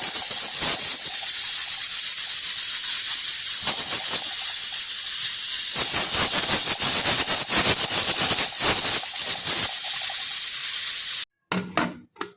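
A pressure cooker holding beef feet hisses loudly and continuously for about eleven seconds, then cuts off, followed by a few brief clattering handling sounds.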